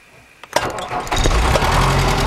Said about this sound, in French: On va juste appuyer sur le bouton pour démarrer.